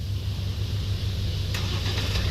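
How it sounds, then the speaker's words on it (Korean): A car with a full LED headlight style package is started by remote start, its engine catching and settling into a steady low idle rumble, with a brief brighter burst as it turns over, no talk heard. "굳이 가서 시동을 킬 필요 없이 원격 시동을 걸면 됩니다"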